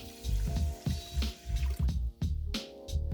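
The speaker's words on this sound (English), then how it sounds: "We're going to add 3 cups of water." Water pours steadily into a pot of drained rice, a near, continuous splashing with a few brief pauses and no talk.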